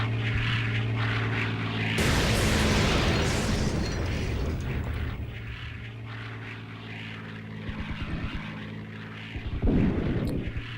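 An artillery salvo in the strategy game Codename: Panzer lands as a sudden loud burst of explosions, followed by scattered pops and booms over a steady drone of propeller aircraft.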